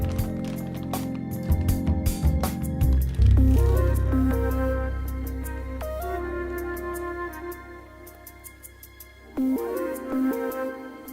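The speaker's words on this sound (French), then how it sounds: "Vous débarrassez la préparation dans une poche à douille" A dessert mixture squeezed from a piping bag into a verrine gives wet squelching and squishing sounds close up, under a steady background of music.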